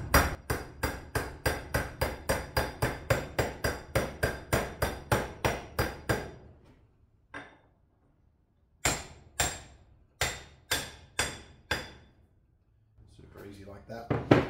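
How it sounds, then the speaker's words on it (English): A hammer drives a trailer wheel bearing race home through a 1¼-inch socket, ringing out in a fast, steady run of sharp metallic blows, then a pause and a few more spaced strikes, loud and close. "We'll just tap it home with the little socket."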